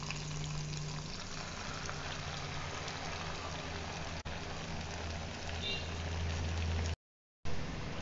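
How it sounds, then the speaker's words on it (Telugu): Ginger chutney sizzles steadily in a tempering of garlic and curry leaves, a continuous soft frying hiss at moderate loudness that briefly cuts out near the end. "ఇలా కొంచెం సేపు ఫ్రై చేసేసుకుందాము"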